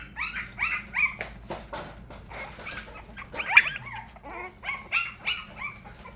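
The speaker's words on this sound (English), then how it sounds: "Who are you barking at?" A young puppy yapping and whimpering in rapid high-pitched bursts, close and fairly loud, with no speech over it.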